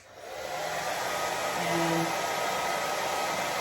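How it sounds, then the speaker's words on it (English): Hair dryer set to high heat and low fan, aimed at wig fiber roots, blowing in a steady close whoosh that holds through the whole stretch with only a faint murmured word. "I'm going to turn my hairdryer to high heat,"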